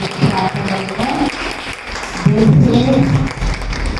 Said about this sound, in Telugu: చప్పట్లు గట్టిగా చప్పట్లు